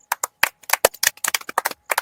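Audience at a rural comedy prize-giving claps for a winner: a small group's sharp, uneven hand claps, close and crisp, in a quick irregular burst of about twenty strikes.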